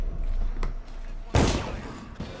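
A single sharp gunshot in Dishonored cracks loud and close, then its noise trails off. A few softer thumps and game sounds come before and after it.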